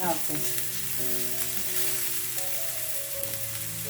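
Garlic and curry leaves sizzle steadily in hot oil in a pan while being stirred, a close, continuous crackling fry with no talk over it.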